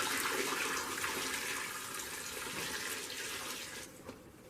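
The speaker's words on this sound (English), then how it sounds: "I'm just going to pour the rest of this water on here and get the scrubbing." Water poured over a part of a 1939-1940 Briggs and Stratton Model A engine during restoration, a steady broad splashing rush that gradually eases toward the end, close and alone.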